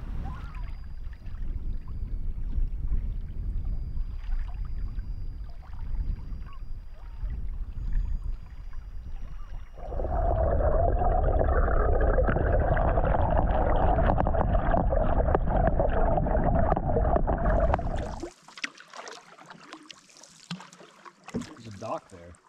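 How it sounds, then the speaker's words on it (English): Canoe paddling on Scarecrow Lake in the Temagami wilderness: soft watery strokes and trickles close by, which swell into a louder rushing stretch of water noise midway and then drop off sharply. "So we're currently paddling down Scarecrow Lake"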